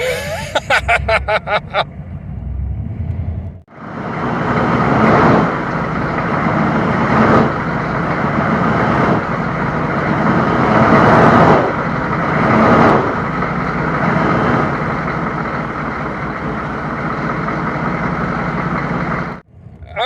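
A 1993 Chevrolet K3500 diesel truck spins its tires, giving a loud, sustained engine roar with a rough, grinding texture for about fifteen seconds after brief clicking and a short gap.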